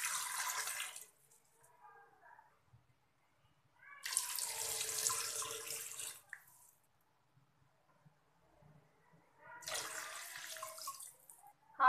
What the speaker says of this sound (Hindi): ऐड करेंगे 3 ग्लास पानी।